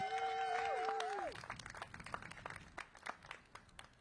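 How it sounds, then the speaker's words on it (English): An audience at a mayoral event for Black businesses claps for LaToya. After a brief tonal passage, scattered individual claps ring out faintly and irregularly. "So give LaToya another round of applause."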